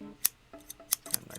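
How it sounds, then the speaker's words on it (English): Barbershop scissors make a string of crisp metallic snips, about four sharp cuts spaced irregularly within a quiet, dry recording used as a percussion sample in a beat. "and nice scissor sounds"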